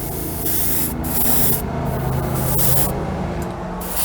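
Aerosol spray paint hissing onto a model car in a string of short bursts separated by brief pauses, close and steady, with no voices.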